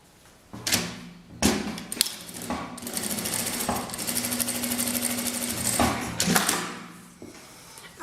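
A sewing machine runs in a continuous fast whirring chatter as it stitches a seam joining patterned and coordinating fabric, broken by a few thumps as the fabric is handled.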